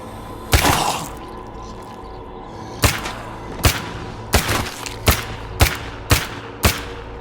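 Revolver gunfire in the zombie survival game State of Decay 2: eight sharp shots, one early and then a fairly steady run spaced about a second apart, each with a short booming tail, over a low game ambience with no talk.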